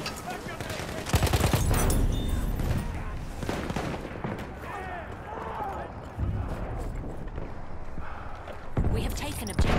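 Gunfire from the video game Battlefield 1 during online Conquest play, with bursts of shots and explosions mixed under excited players talking over each other.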